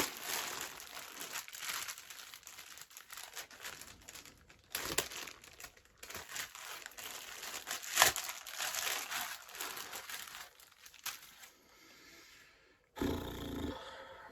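Crinkling plastic bags, one inside another, rustle and crackle almost nonstop for most of the stretch as a lost parcel is unpacked up close, with a short pause near the end before a final burst.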